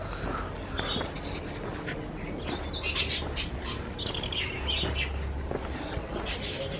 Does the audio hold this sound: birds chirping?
yes